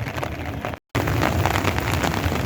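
Light rain patters steadily on a wet surface outdoors during a tropical storm in the desert, a dense hiss that cuts out for a moment before resuming.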